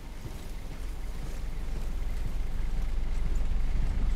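A vehicle engine idling in the video game Daymare: 1994 Sandcastle, a low rumbling drone that grows gradually louder over several seconds.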